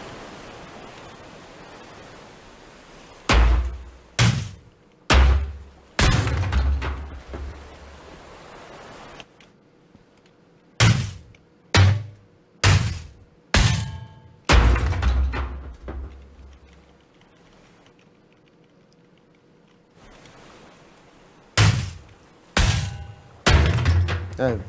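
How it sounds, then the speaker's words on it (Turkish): Ship parts being smashed and broken apart in Ship Graveyard Simulator, a series of loud, close, heavy crashing impacts in bursts of three to five, separated by quieter pauses. "Vur, kır, parçala."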